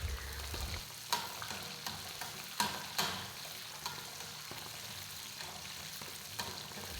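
Food frying in oil for a traditional Tunisian dish, a steady crackling sizzle with scraping stir strokes and a few sharper pops, close and fairly loud with no voices.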